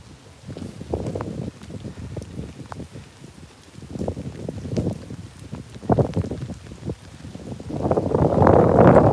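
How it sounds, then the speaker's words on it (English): Gusty wind thumps and rumbles against the microphone at night in Tokyo in the rain, in uneven bursts, growing louder and rougher toward the end. "Sorry about the wind. I didn't expect it."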